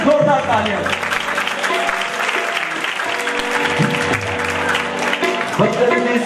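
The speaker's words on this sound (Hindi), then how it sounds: "ऐसे यीशु के लिए जोरदार तालियां।" A church congregation gives loud, sustained clapping for Jesus during a sermon, a dense wash of many hands with musical tones and voices mixed in underneath.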